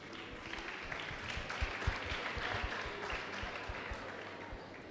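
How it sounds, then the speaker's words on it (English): Scattered audience applause at a senatorial district quiz competition in Akwa Ibom, a steady patter of many hands with a few sharper claps standing out, moderately loud and continuous throughout. "Can you clap for me?"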